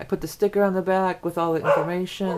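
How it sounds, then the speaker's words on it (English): A dog barks in repeated short, sharp yaps indoors, loud and close, while someone talks over it. "It seems these days I can't get through a video without that dog going on."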